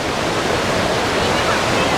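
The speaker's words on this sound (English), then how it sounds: "It's the current of the water is too much" A strong mountain river current rushes along the trekking trail to Kheerganga, a loud, unbroken roar of churning water that stays steady and close throughout.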